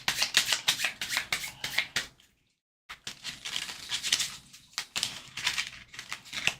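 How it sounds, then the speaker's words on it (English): Unsleeved playing cards being shuffled by hand, a dense riffling patter of rapid card flicks in close bursts, broken by a short pause before the shuffling resumes; no talking. "I can't shuffle a deck of cards to save my life"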